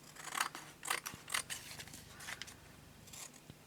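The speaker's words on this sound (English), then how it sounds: "I find cutting around my cards so much easier when I have some larger scissors" Large scissors snip around a decorated paper card, a handful of quiet crisp cuts spaced roughly half a second apart, then fainter trimming rustles with no one talking.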